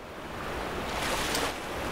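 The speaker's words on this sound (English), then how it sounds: "Oh, that's water." Water in the video game Black Mesa, a steady broadband wash of flowing or lapping water that swells slightly midway and holds at a moderate level throughout with no voices.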